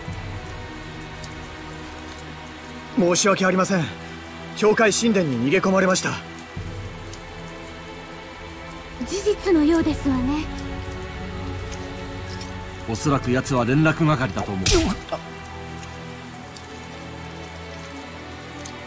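Rain falls steadily in the video game Tales of Zestiria, a continuous soft hiss under several stretches of dialogue between characters.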